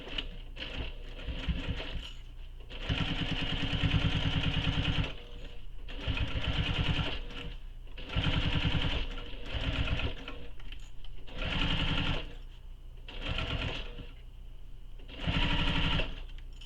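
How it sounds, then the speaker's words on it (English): Sewing machine joining the side and main panels of a tote bag, running in about seven close, loud bursts of rapid stitching separated by short pauses. "So side panel and main panel are being sewn together"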